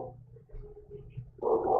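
A dog lets out a low woof and then a louder, rough bark at close range, heard briefly over a quiet background.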